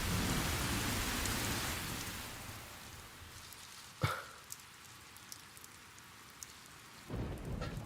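Heavy rain pours steadily with a sharp thunder crack midway, the downpour thinning afterward before surging again at the end; no voices.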